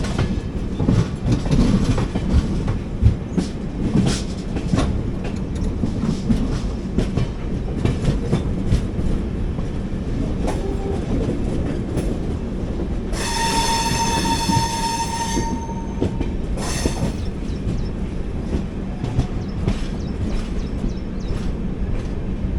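The Mandovi Express, an Indian passenger train, rolls into Karmali station with loud wheel clatter and rumbling carriages, then a sharp, sustained wheel squeal rises midway before the steady rolling noise returns.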